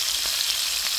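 Galunggong fish fries in hot oil with a dense, steady sizzle and close, crackling spatters of splashing oil, with no voices.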